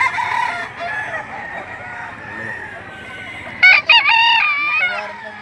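A Sweater-line gamefowl rooster crows loudly and close, with a clear harmonic call near the end and softer clucking and crowing from other fowl throughout, at a roadside gamefowl sale in Lipa City, Batangas.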